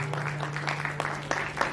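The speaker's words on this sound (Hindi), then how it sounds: "जोरदार तालियों से स्वागत कीजिए" An audience in a hall at an awards ceremony applauds as a guest is welcomed onto the stage, scattered moderate clapping over a steady hum, fairly distant and short.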